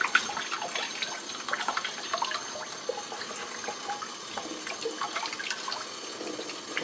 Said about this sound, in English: I could do it under running water